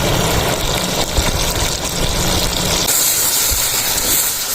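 Yogurt hitting a hot pan of white bean (safed lobia) curry in a village kitchen gives a loud, steady steamy hiss and sizzle that eases off slightly partway through.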